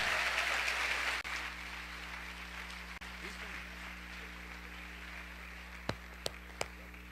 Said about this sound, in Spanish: Y vamos a recibir con un aplauso a Antonio Sánchez de Punto de Vida en Mérida,